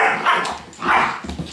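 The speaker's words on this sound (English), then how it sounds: "Look at that little dog." Redbone Coonhound puppy, about 11 weeks to four and a half months old, giving a few close, loud, high yipping barks with whiny edges, spaced in quick bursts and heard alone without talk.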